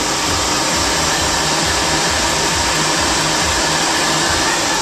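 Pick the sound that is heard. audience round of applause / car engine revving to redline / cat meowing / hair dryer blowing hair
hair dryer blowing hair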